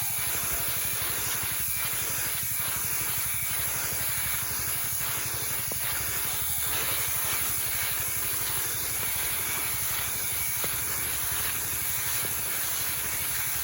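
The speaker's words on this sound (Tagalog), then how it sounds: "Yan lang yung pag-i-spray ko mga kagulay." A sprayer mists vegetable plants against whiteflies, giving a steady close hiss with a low motor drone underneath throughout, with no talking.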